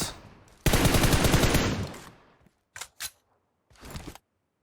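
Enemy automatic fire rakes the player in a shooter video game: a loud, dense sustained burst of rapid shots that tails off, followed by a few short separate bursts, with no talking.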